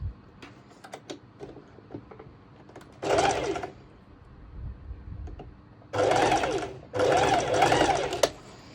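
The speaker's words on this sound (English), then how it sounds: "I'm going ahead and do a straight stitch" A sewing machine runs a straight stitch on fabric for a bikini bottom in three steady bursts of close, rapid mechanical whirring. Quiet handling noises fill the pauses between bursts.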